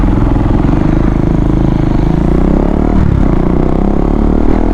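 A KTM Duke 390 BS4 motorcycle engine with a noise problem runs loud and close, a steady rough mechanical drone with clattering overtones throughout, no voices.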